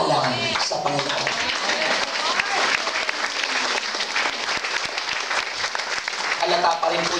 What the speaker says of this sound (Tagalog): Halata pa rin po yung inyong palakpak.